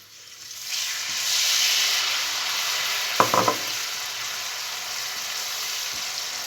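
A garlic broth for conger comes up to the boil, giving a steady, fairly loud hiss and bubbling. A brief clatter of cookware cuts in midway, and no voices are heard.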